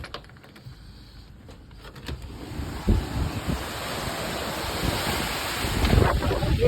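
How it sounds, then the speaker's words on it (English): Strong hurricane wind from Hurricane Ian rushes outdoors, starting with buffeting against the microphone and building into a loud, roaring blast with surging gusts, no voices. "it's pretty windy"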